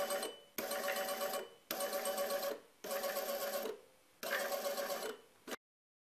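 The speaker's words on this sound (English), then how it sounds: "This motor from an old printer is more powerful. Here it's driven with 5V. At 12V, torque and so motor speed are increasing clearly." A DC motor taken from an old printer and run at 12V whirs in repeated bursts, each about a second long with short silent gaps between, a bright buzzing spin that cuts off abruptly at the end.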